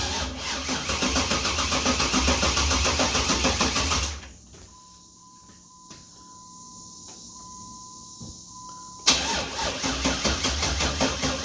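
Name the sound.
swapped car engine cranking and trying to start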